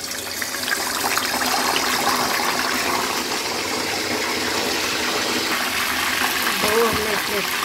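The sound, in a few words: chicken legs added to hot oil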